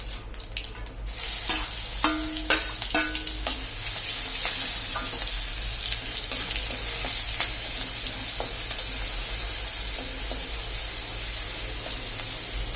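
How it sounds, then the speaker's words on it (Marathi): Chili and garlic paste fries in hot oil with curry leaves in a pan for an aloo paratha filling, giving a steady close sizzle broken by a few clinks and scraping stirs early on, with no talking. "नंतर आपण जो मिरची आणि लसूणची पेस्ट तयार करून घेतली आहे ती आपण ॲड करून आहे"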